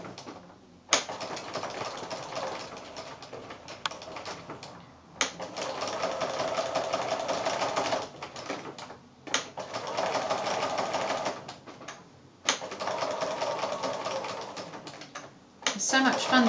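Domestic sewing machine stitching a fused reverse appliqué quilt piece, running in several steady bursts of a few seconds each, separated by short pauses.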